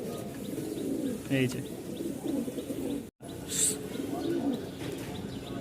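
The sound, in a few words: pigeons cooing at a pigeon sale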